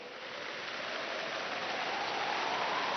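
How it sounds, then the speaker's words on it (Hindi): Heavy rain pours steadily at a station, a dense, continuous hiss that grows slightly louder and stays unbroken, with no voices. "जोरों से बारिश हो रही थी"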